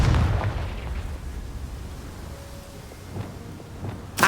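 A Confringo fire spell explodes in Hogwarts Legacy, a deep rumbling blast at the start that fades into low rumble, with a second sharp burst at the very end.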